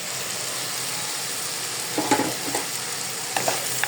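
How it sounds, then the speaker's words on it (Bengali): Fish frying in hot oil in a pan gives a steady, close sizzle, broken by a few sharp clinks and scrapes of a utensil stirring partway through. "অরিন্দমেও মাছ ভাজা দেখাই"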